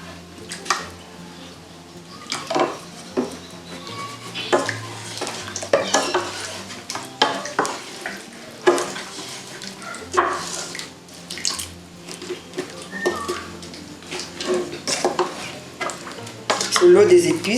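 Oil sizzles and crackles steadily as catfish wrapped for liboke-style papillote is stirred in a pot, with repeated scraping stirs and a faint splash of liquid throughout.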